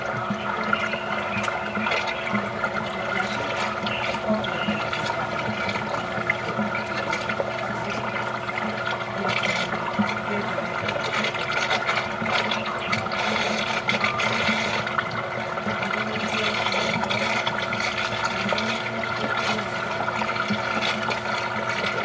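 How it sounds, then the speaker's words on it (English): Water rushes steadily through a sewer pipe under a St. Petersburg condo, a constant hollow gurgling flow that echoes from inside the line with no pauses. "I have a lot of water coming through here"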